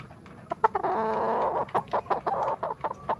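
A chicken clucks close by, a rapid series of short clucks broken by one longer drawn-out call, loud and clear with no voices over it.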